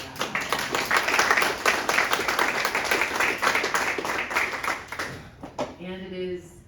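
Applause for city staff at a council meeting, a brief burst of scattered clapping from a small crowd that fades out after a few seconds, followed by a voice speaking.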